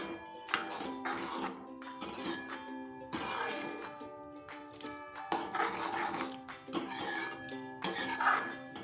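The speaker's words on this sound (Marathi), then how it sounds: "छान असे मिक्स करून घेणार आहोत." Shev noodles being stirred into a spicy dhaba-style shev bhaji in a pan, with repeated scraping and clattering of a spoon against the metal under steady background music.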